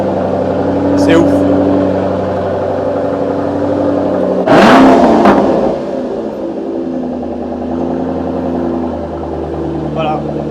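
A Shelby car with its exhaust line, freshly detailed, idles loudly up close and then gives a sharp rev midway before settling back to a deep burble; a person speaks over it.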